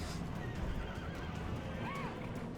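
Horses neigh amid a cavalry battle in the video game Rome Remastered, with a couple of high whinnies and hoof clatter over a dense, steady roar of combat noise.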